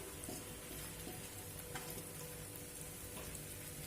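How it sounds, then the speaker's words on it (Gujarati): Onions and tomatoes sauté in a pan for a green chickpea dish, a faint, even sizzle of frying with light stirring. "અને આપણે ડુંગળીને પણ સરસ રીતે આમાં મિક્સ કરી દઈશું અને સારી રીતે સાંતળી લઈશું"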